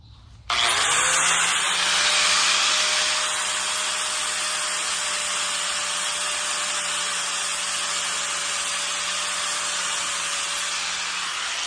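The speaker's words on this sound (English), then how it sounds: "open them way up like this so you can get in there with a grinder" Grinder works on the jaws of homemade fishing pliers, a loud, steady motor whine that starts abruptly and holds an even pitch close by, with a harsh grinding hiss over it.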